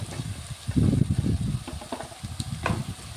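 Drumstick pieces tossed into hot oil for a tomato curry with fenugreek leaves, giving a close, steady sizzle of frying with stirring and scraping noises over it, no talking.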